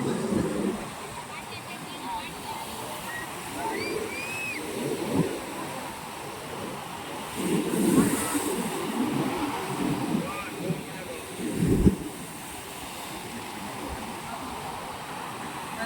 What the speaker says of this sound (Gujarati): દરિયો એટલો શાંત નથી